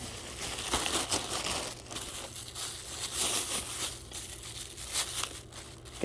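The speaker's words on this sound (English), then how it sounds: "Get this plastic off." Plastic film is peeled and crinkled off a 12-inch AVACRAFT 18/10 tri-ply stainless steel frying pan, giving close, continuous crackling and tearing rustles that swell and fade, with no talking.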